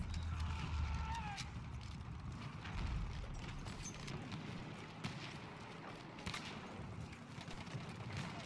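Horse hooves galloping in the video game Battlefield 1, a busy rumbling clatter of battlefield noise with players talking over it throughout.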